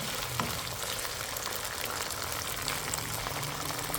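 Onion-tomato masala frying in a pan for a chicken achar gosht, no water added, giving a steady soft crackling sizzle throughout, fairly quiet and close, with no talking.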